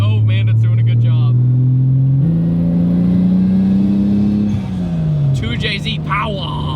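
A Toyota 2JZ engine swapped into a Nissan 240SX drones loud and close, its pitch stepping up and holding as it revs through gears, then dropping before climbing again, with a voice talking over it.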